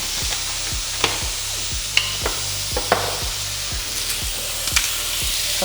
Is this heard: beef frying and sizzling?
yes